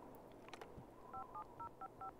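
Tone dialing in The Sims 2 video game, a run of five short paired beeps in quick, even succession after a brief murmur of background sound.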